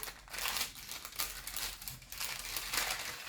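Packaging of a December 2023 Quiscrap scrapbooking subscription box crinkles and rustles close up in repeated bursts, with no talking.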